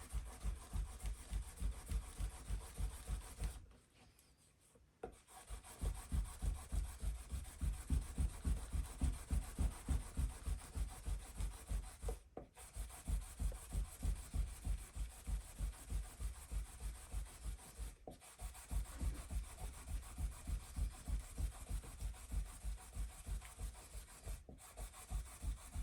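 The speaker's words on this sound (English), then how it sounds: "What I want is 180 grit and get right through it." Hand sanding of a Made in Japan Fender Stratocaster guitar body with 180 grit sandpaper, close and quiet, a fast steady back-and-forth rasping rhythm with a few brief pauses.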